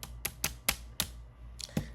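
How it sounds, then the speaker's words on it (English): Tarot cards are shuffled close by in sharp, quick riffles and taps, about eight crisp strikes in an uneven rhythm with no voices. "This is why I start shuffling on camera."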